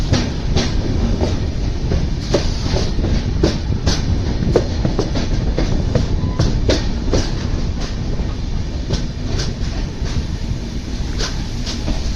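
A Konkan Railway passenger train rolls along, heard from on board as a loud, steady rumble with repeated clickety-clack wheel beats over the rail joints throughout.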